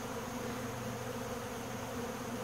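Honey bees from two or three hives in a bee yard, robbing each other, fill the air with a dense, continuous close buzz that holds steady throughout without a break.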